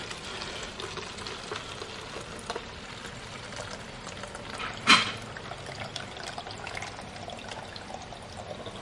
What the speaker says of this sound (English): And you just drain it. You can see it's mostly pure water coming out